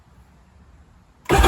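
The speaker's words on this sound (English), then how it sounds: "how could I not start this thing without the exhaust on?" A Waverunner personal watercraft engine fires up with no exhaust fitted, bursting suddenly from near-quiet into a loud, raw, close roar at the very end.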